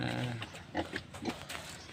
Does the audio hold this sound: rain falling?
no